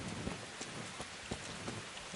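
Steady night rainfall in Kingdom Come: Deliverance, a dense hiss of drops on surfaces with scattered heavier splats, heard alone without voices.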